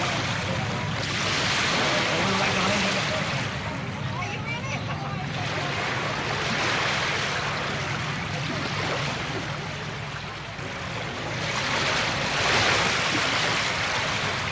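Ocean waves surging around a small grill floating on open water, a steady broad wash of surf and wind that swells and eases over several seconds, with some faint voice in the background.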